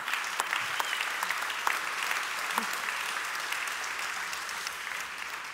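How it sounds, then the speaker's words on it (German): Steady audience applause for a speaker at a press talk during the BDEW energy industry congress, a dense wash of clapping from a large crowd that holds evenly throughout. "Ein Applaus bitte für Ulrike Herrmann."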